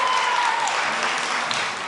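Parents at a raucous school board meeting erupt in sustained cheering and applause, a loud, dense crowd roar that holds steady throughout, with a brief tone sounding at the start.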